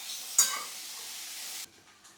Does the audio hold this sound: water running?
no